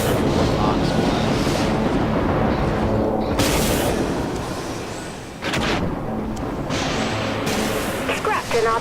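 Artillery cruiser of the Nox class firing rapidly in the space combat game Dreadnought, a dense barrage of loud booming blasts with rumbling bursts, a brief dip midway, then renewed heavy firing.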